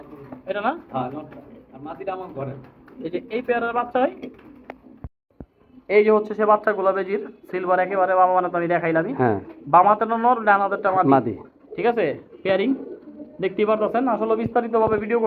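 Pigeons coo on a rooftop loft, their soft calls running beneath nearly continuous nearby talk from people in the loft.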